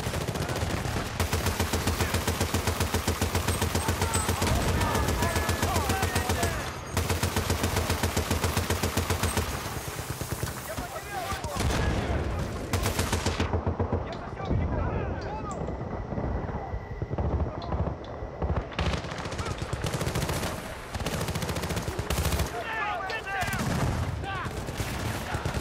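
Machine gun fire from the Battlefield Bad Company 2 video game rattles in dense rapid bursts alongside explosions and engine noise, briefly easing before resuming, with a voice talking at times over it.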